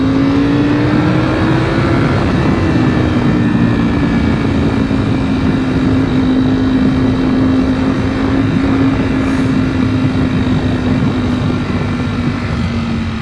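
A Ducati V4 SP motorcycle engine drones steadily while riding at low speed, its pitch rising slightly then settling into a sustained loud hum mixed with wind noise, with no talking.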